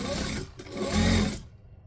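A sewing machine stitches wrap pants in a short, close run of mechanical whirring that swells and then cuts off abruptly.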